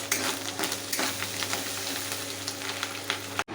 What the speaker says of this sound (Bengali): এরপর সেদ্ধ করে রাখা গুগলিগুলো তেলে ভেজে নিচ্ছি।